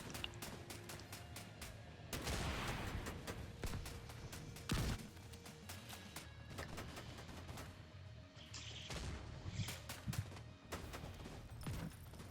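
Rapid bursts of video game gunfire crackle throughout during the Iron Horse boss fight, dense and fairly loud, with sharp heavier blasts standing out among the steady shooting.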